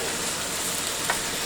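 Tofu being stir-fried in a wok for a vegan Chinese dish, giving a steady, even hiss of frying and sizzling throughout, with one brief louder crackle near the end and no talk.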